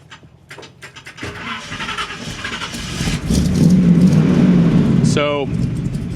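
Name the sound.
1979 GMC C35 truck engine starting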